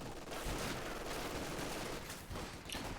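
Dense machine gun fire rattles in a Company of Heroes 2 battle as an MG engages an infantry section, a fast, continuous burst of overlapping shots, fairly loud and with no talk.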